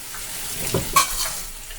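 Vegetables and tilapia fish sizzle steadily in a hot pan, with a brief stir or scrape rising over the constant frying hiss.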